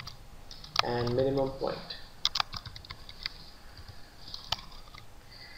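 Light, close clicks of a computer keyboard being typed on while entering spreadsheet cell labels, scattered in short bursts under and between a man's speech.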